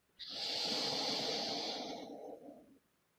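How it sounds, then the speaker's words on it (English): A single slow, audible breath drawn in during a somatic therapy exercise, a smooth airy rush lasting a couple of seconds, close and alone in a quiet room. "Pause and take a breath here."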